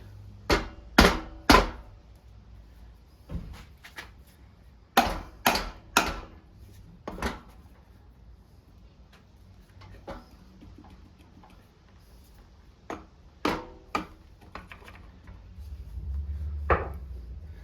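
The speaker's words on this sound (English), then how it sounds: "I'm going to hit it with the plastic end on here, see if I can kind of break it loose." The plastic face of a hammer strikes an OMC Stinger 400 stern drive close up to break the gasket-sealed flange loose. The sharp knocks come in quick clusters of two or three with short pauses between the groups.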